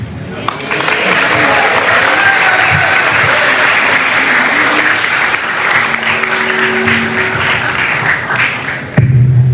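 An audience applauds at a school talk show at SMA Negeri 2 Denpasar, a loud, sustained roar of many hands clapping that stays steady for several seconds before cutting off sharply at the end.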